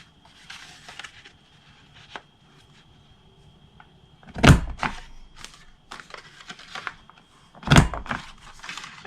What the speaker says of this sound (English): I want you to round the corners right here at this big flat piece.